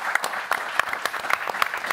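An audience applauding speakers at the close of a policy panel event, a brief burst of steady indoor clapping with many hands, moderately loud and continuous.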